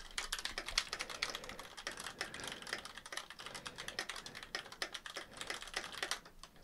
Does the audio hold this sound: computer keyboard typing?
yes